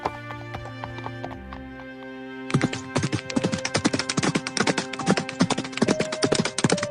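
A prince's horse rides off toward the forest, its hooves sounding a brisk, steady clip-clop gallop of close, crisp knocks that begin suddenly after a soft musical passage and continue at a fast rhythm.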